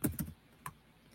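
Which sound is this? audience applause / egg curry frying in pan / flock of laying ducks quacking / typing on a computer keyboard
typing on a computer keyboard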